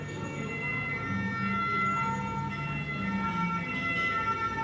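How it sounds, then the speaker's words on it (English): An ambulance siren sounds in a street in Thailand, its wailing tones rising and falling continuously. It stays fairly prominent above a low background of traffic noise. "ambulance."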